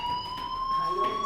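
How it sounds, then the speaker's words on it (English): A fire alarm sounds in the video game Life is Strange, a steady electronic tone holding several sustained pitches at once, continuous and fairly loud across the whole moment. "do you hear that fire alarm?"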